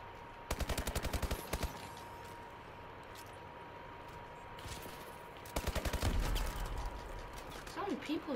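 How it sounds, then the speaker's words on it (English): Bursts of rapid gunfire from a Call of Duty Advanced Warfare match, clustered at the start and again near the middle, with a player talking between volleys. "So many people shooting at me."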